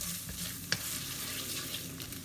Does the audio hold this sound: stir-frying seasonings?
yes